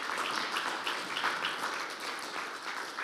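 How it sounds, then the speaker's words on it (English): Steady round of applause from a conference audience at a roundtable on financing water, thanking a panel of speakers; dense, even clapping that holds throughout without talk. "A big round of applause for our panelists."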